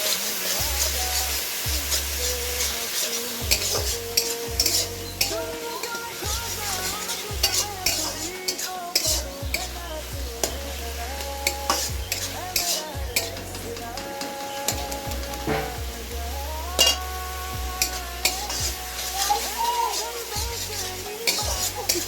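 Ginger paste fries in a pan after garlic, with a loud, close sizzle under repeated metallic scrapes and clinks of a spatula stirring in an uneven rhythm.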